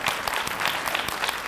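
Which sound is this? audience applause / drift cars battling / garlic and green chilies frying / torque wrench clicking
audience applause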